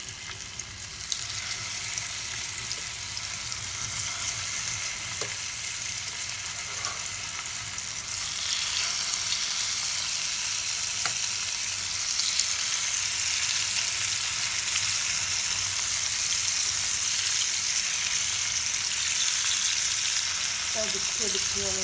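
Sardines frying in hot oil in a home kitchen, a continuous loud crackling sizzle that grows brighter partway through, with occasional small knocks and clinks of utensils.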